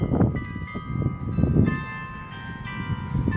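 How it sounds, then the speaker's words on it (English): A village church bell in Manchester by the Sea rings with sustained metallic tones that overlap and linger, fairly loud outdoors over a low rumble of traffic or wind. "And there you have it, the village town bell."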